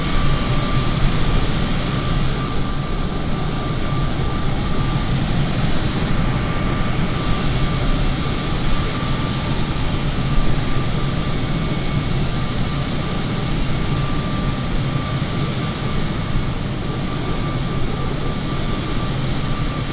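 Steady, loud roar of Bombardier jet engines during a fast climb in a flight simulator game, a continuous cockpit drone with a constant high whine that never lets up.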